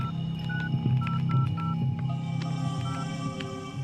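Phone number dialed in a film scene: a quick run of short, even keypad tones beeping one after another over a steady low hum and background music.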